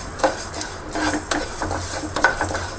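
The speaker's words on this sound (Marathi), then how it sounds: "अगोदर जवस भाजते, तेल नाही राहिलं म्हणून" Flaxseed being dry-roasted without oil in a pan, with a utensil scraping and clinking against the metal in uneven strokes, close and moderately loud, with no talking.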